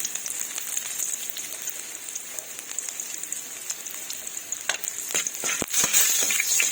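Onions being sautéed in hot leftover oil from frying tilapia, giving a steady close sizzle with stirring scrapes and a few sharper pops toward the end.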